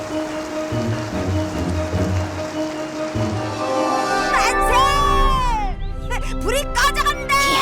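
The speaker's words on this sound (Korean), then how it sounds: "갑자기 비가 내리다니" Rain falls in an animated Korean cartoon, a steady hiss of rain on a surface for several seconds, followed by excited character voices speaking over the continuing noise.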